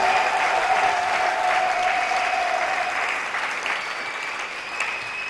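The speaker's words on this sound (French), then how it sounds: "Et nous allons recevoir le Saint-Esprit par les acclamations et les cris de joie." A church congregation claps and cheers with joy during a worship service, a steady, dense wash of applause and scattered shouts that stays loud throughout and eases only slightly toward the end.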